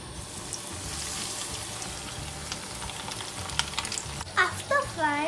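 Doritos-coated chicken strips frying in hot oil in a pan, a steady soft sizzle throughout, joined near the end by a few sharper splashy crackles and clatters.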